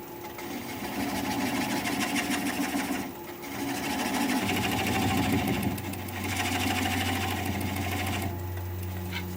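A wood lathe spins a weathered mountain mahogany bowl while a gouge works the bottom, giving a steady whirring motor hum with scraping cutting noise that pauses briefly and resumes, then settles into a lower, slower drone.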